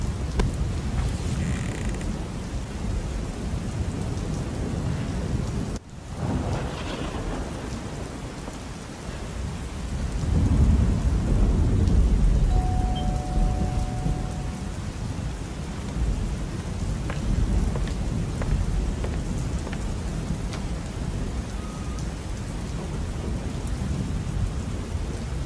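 Game thunderstorm in Baal, with heavy steady rain throughout and a sharp thunder crack early on, followed by a louder rolling rumble swelling in the middle, with no talk.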